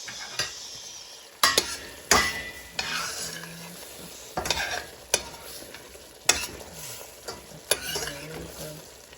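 Sliced fish fries in a pan in a Jamaican-style meal, with a soft sizzle under repeated sharp scrapes and clinks of a utensil against the pan, close and intermittent.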